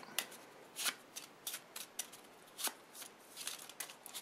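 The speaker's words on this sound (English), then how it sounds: "we'll shuffle that pile of 13 up" Playing cards riffled and shuffled in a series of quick crisp bursts, close up and fairly quiet, with no talking.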